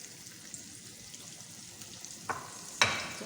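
Flour-coated chicken pieces frying in oil give off a faint, steady sizzle, broken by a couple of sharp clicks near the end.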